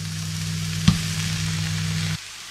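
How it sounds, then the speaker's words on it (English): St George's mushrooms frying in olive oil and butter in a pan give a steady close sizzle with one sharp knock partway through, then the frying stops abruptly near the end. "Olive oil, mushrooms, fry."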